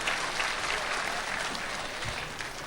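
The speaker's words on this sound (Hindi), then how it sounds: "एक बार ताली आली और बजाओ, हौसला बढ़ाओ छोटे से कदम का।" Steady applause from an audience at a poetry recital (kavi sammelan and mushaira) in Dubai fills the whole stretch, dense and even clapping with a faint murmur of the crowd underneath.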